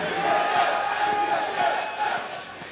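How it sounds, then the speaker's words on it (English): A large esports crowd at the LCS North America Summer 2014 playoff between Cloud9 and Team SoloMid chants rival team names, a dense, loud, continuous roar with rhythmic swells. "The battle of the team names by the crowd right now."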